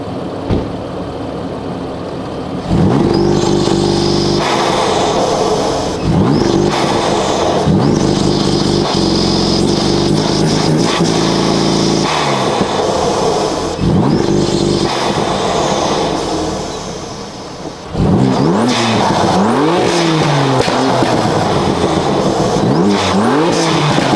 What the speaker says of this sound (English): Okay, I'm gonna put it into launch control real quick.